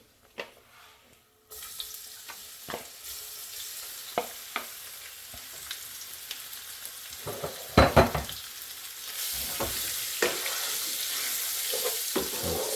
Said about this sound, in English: So now we're gonna add our pork.